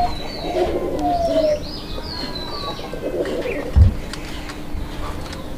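Raj-golla pigeons cooing up close, several soft rolling coos repeating over a low background hum, with one brief thump partway through.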